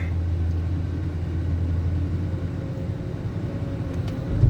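Thai tour bus engine running with a soft, heavy tone, a steady deep drone and rumble heard close from on board, holding evenly and swelling slightly at the very end.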